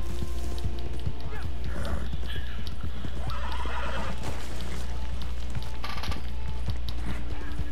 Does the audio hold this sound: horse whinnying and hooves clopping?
yes